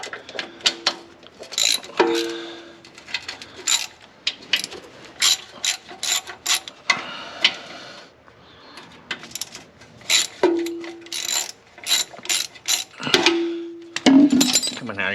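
A hand ratchet wrench backing out oil pan bolts under a car, clicking in fast irregular bursts with pauses and a few short squeaky turns, close and fairly loud.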